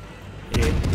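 Naval gunfire in the World of Warships video game: after a quiet half-second, a single heavy, close boom breaks out and trails into a rumbling tail with a second fainter crack.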